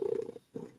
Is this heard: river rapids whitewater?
no